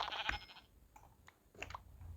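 Sheep bleating in a Minecraft-style video game, a few short bleats in quick succession, then quieter blips and another bleat near the end, fairly close and clear with no talk.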